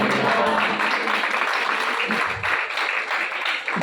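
A church congregation claps during a Palm Sunday service, with continuous dense clapping and faint voices mixed underneath.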